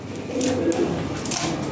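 Large Lahore shirazi pigeons, a breeding pair kept for sale, coo softly in low, rounded murmurs through a continuous background hum.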